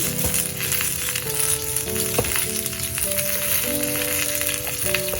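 Medium red potato pieces fry in oil in a pan, a loud, steady sizzle with crackling pops close up, and no voices over it.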